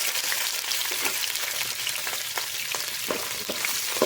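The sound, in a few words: onions sautéing in oil with mustard seeds and curry leaves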